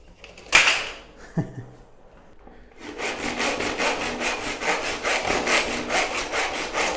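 Hand sawing through RUNNEN wooden balcony floor tiles, a few knocks and a scrape, then steady rhythmic back-and-forth saw strokes, close and loud, with no talking.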